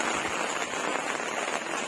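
Heavy rain in Nainital, Uttarakhand, falling in a dense, steady hiss on surfaces, loud and continuous with no voices.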